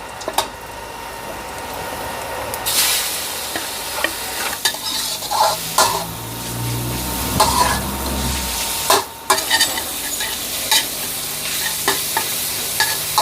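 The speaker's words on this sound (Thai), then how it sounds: "เดี๋ยวเราผัดพริกให้หอมก่อน แล้วก็ใส่เนื้อที่เราสับไปเลย" Minced beef and chili stir-fried in a hot pan: steady sizzling and frying with scraping, stirring clatter of a utensil against the pan, close and continuous throughout.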